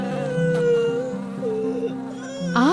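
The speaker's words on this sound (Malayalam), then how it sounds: "ആ വികൃതിയായ ചെക്കൻ വേദന കൊണ്ട് കരയാൻ തുടങ്ങി." A boy cries in pain with wavering, whining wails that rise and fall for nearly three seconds, used as a sound effect in a children's story.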